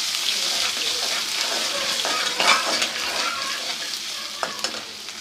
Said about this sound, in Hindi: यहाँ पर मैं 1 खाने के चम्मच लहसुन अदरक का पेस्ट शामिल कर रही हूँ, इसको हल्का सा फ्राई कर लेंगे।